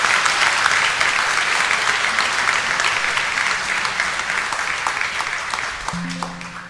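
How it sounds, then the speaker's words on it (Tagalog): At a Mass in Quiapo, a congregation applauds the Nazarene in a full, steady wash of clapping that slowly fades. A brief tonal sound enters just before the end. "Kaya palakpakan naman natin ang Pong Nazareno."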